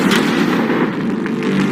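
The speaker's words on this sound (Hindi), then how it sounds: "ये 5 टैंक्स पैसों पर निशाना लगाकर 20 राउंड फायर करने वाले हैं।" A tank cannon fires a round at a target made of cash, one loud, heavy blast and rumble that fills the whole short moment with no speech.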